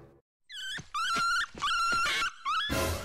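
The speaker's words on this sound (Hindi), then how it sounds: "चंपू इतना भौंक क्यों रहा है" A cartoon dog gives a run of four sharp, high yelping barks with whiny tails, loud and close, separated by brief gaps, with no talking.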